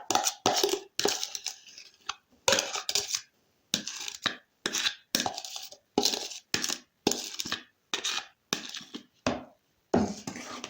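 Beaten eggs and sugar are stirred into jam for a quick cake batter, producing repeated short, close scraping and clinking strokes of a utensil against a bowl in an even rhythm with brief pauses.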